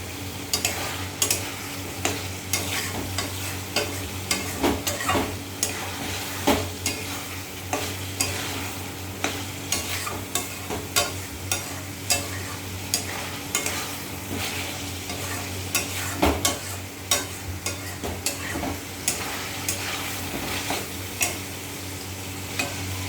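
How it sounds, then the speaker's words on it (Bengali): Spice masala frying in rendered mutton fat, being stirred steadily in the pan, with a constant low sizzle and repeated sharp scrapes and taps of the spoon throughout. "মশলাটা কষা হতে থাকুক।"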